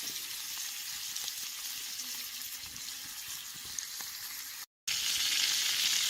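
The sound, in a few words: eel sizzling as it cooks over a campfire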